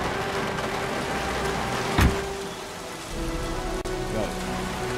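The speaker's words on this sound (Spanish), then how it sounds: "Que en este juego siempre llueve." Steady rain pours throughout a rainy scene in the video game Heavy Rain, a dense hiss with a brief thump near the middle and no talk.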